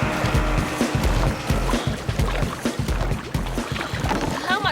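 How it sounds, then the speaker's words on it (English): A boat paddled through water, with rhythmic sloshing strokes repeating every half second or so, close and fairly loud over a wet splashing background. "Try paddling a little faster, Gemma."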